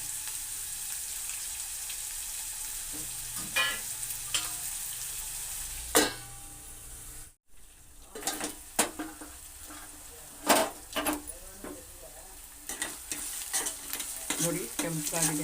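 Onions frying in a pan for masala chitranna sizzle quietly under a steady low hiss, broken by scattered clinks and scrapes of stirring with a utensil against the pan.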